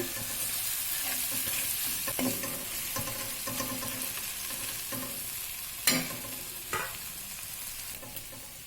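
Fried ivy gourd with tamarind is stirred in a pan for a chutney, with repeated scraping strokes over a steady frying sizzle and a couple of sharper clanks near the end.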